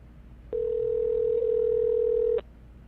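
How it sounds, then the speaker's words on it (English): A single steady telephone tone sounds for about two seconds, clear and close, then cuts off abruptly, with faint background hiss around it. "now I got to dial the phone again"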